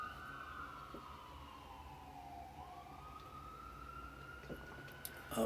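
Emergency vehicle siren near a hospital in Washington, Missouri, a long wailing tone sliding down and back up, fairly distant and steady, heard from indoors over low room noise.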